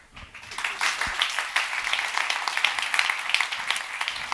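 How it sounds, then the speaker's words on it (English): Applause from the audience at JSConf Budapest 2019, a JavaScript conference talk: clapping swells in quickly from a quiet start and holds as a dense, lively patter with distinct sharp claps scattered through it. "Judging by the sound of the claps, it sounds very good."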